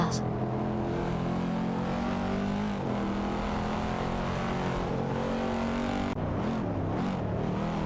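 BMW M3 E46 GTR and Panos Esperant GT LM race cars in a racing game hold a loud, continuous engine drone, the pitch sliding up and down with a sharp shift near the end.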